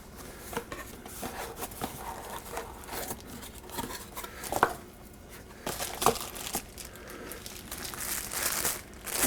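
Plastic packaging around ant bait poison packets crinkles and tears in irregular bursts up close, with sharp rustles and a few louder snaps while a box is opened.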